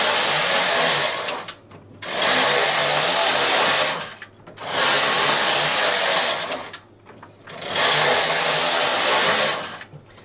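The carriage of a home knitting machine is pushed across the rows while knitting a scoodie. It makes four loud, close sliding whirs, each lasting about two seconds, with brief quiet gaps between passes.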